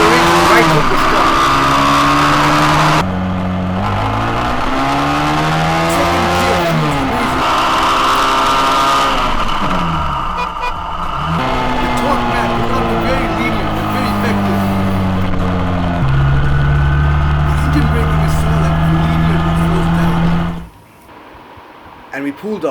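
Loud, close Lifan KPR 150 motorcycle engine accelerating hard at high revs through several gears in a 0 to 100 run, each rising whine cut by a shift, before easing off near the end; a voice talks throughout.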